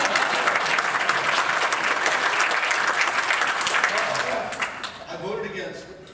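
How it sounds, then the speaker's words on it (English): Audience clapping at a congressional candidates forum, a full room applauding steadily for several seconds before thinning out, with some voices and murmurs coming through as it fades. "You can clap at that."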